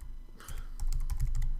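Fast typing on a computer keyboard while coding a web page sidebar, a quick irregular run of close, crisp key clicks with no talking.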